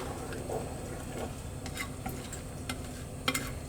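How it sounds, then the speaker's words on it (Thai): A pineapple mixture begins to boil while being stirred in a pot, with soft bubbling, a low sizzle and occasional light scrapes and ticks from the spoon, close and alone. "เริ่มเดือดแล้ว"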